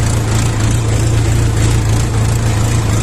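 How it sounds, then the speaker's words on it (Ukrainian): A LOVOL 354 mini tractor's engine runs steadily while the tractor drives, a loud, continuous low droning hum with rough mechanical texture and no breaks. "Я не газую, це сам їде трактор на своєму двигуні."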